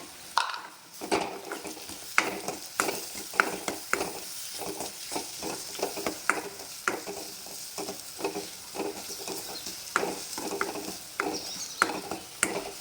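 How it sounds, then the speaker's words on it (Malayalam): A spatula stirs and scrapes food in a frying pan of hot oil with mustard seeds, chillies and turmeric, giving a quick, uneven run of close, sharp scrapes and clicks over a soft sizzle, with no talking. "നന്നായിട്ട് ഇളക്കി കൊടുക്കാം"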